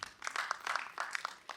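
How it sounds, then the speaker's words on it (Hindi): Brief patter of audience applause at a theatre play in Lucknow, a small, fairly faint scattering of claps over under two seconds with no voices. "कृपया तालियों से उनका स्वागत करिए।"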